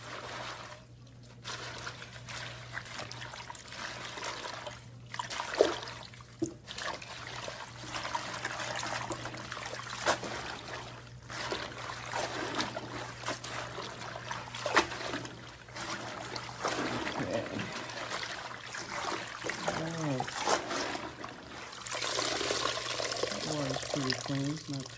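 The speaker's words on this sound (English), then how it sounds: "Still needs to be rinsed another time, right?" Running water rinsing collard, turnip and mustard greens in a kitchen, a steady trickle and splash with leaves shifting, continuing near and moderately loud throughout, with a person talking over it at times.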